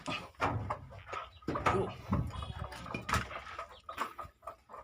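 Chickens cluck and murmur close by in a coop at night, in short, irregular bursts, with soft rustling and shuffling between the calls.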